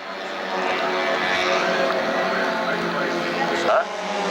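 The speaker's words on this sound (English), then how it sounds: "with very small underpowered aeroplanes" A small, underpowered propeller aircraft of about 30 horsepower drones steadily overhead at a 1988 airshow, loud and continuous, its buzzing engine note briefly rising near the end.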